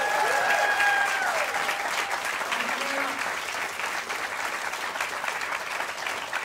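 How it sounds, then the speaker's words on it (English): A theatre audience at a live comedy podcast recording in Leicester Square breaks into sustained, dense applause that stays steady throughout, with a few faint voices underneath. "give a massive round of applause"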